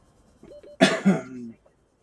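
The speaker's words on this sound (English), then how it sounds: "Still got a bit of a residual cough" A single close, harsh cough in two quick bursts, preceded by a faint breathy throat sound, then quiet.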